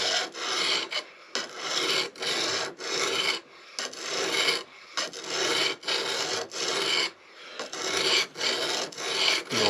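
A knife blade being sharpened on a stone, with steady rasping strokes repeating in an even back-and-forth rhythm, close and clear with short pauses between passes and no talking.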